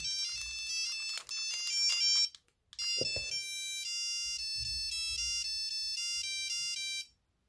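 Bright, square-toned electronic ringtone melody from a Nokia 3310 phone, a rapid string of beeping notes interrupted briefly by a soft thump, then continuing steadily before stopping.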